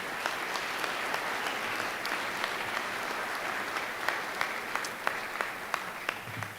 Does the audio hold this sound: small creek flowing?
no